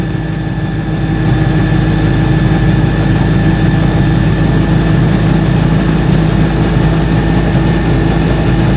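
A small Invacar engine drones loudly and close, labouring uphill with a steady rumble, a slight vibration and no change in pace.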